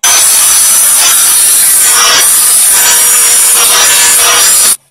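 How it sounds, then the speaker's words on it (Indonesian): Plastic helmet action-cam mount being ground thinner with a grinder, a loud continuous abrasive rasp with faint rhythmic surges as the tool is worked back and forth, close up with no talk. "kemudian kita gerinda agar lebih tipis"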